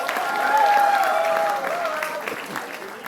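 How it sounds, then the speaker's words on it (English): Applause fills the hall at a university felicitation ceremony in Mumbai, moderately loud and steady, with a sustained tonal voice-like sound riding above it before the clapping tapers off. "Round of applause."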